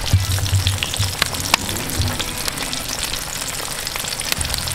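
Chicken fried steak frying in oil on a Kamado Joe grill, a steady close crackling sizzle with scattered sharp pops and a low rumbling hum underneath.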